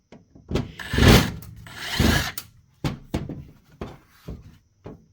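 Screws being removed by hand from the small stand plate of a JTECH CommPass Guest Pass base station during a teardown, heard as close scraping and rubbing bursts with short ticks and clicks, loud then smaller repeated twists.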